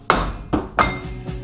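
Hammer blows striking a rear brake rotor on a 2004 Chevrolet Silverado, four sharp metallic impacts spaced irregularly with ringing decay, close and fairly loud.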